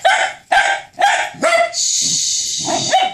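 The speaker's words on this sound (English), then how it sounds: "Mila, no bark, talk." A dog gives four quick, loud barks close by, then breaks into a long, high whining howl that ends with another short bark.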